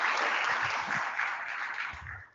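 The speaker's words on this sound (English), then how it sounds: "Please let's give Dan a round of applause for this quality representation" Applause from a conference audience at an internet summit, a dense steady clapping wash that holds strongly and fades out at the end, with no talk over it.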